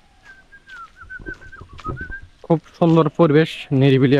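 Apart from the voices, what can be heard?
birds calling and chirping in the forest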